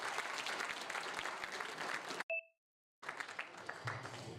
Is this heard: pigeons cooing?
no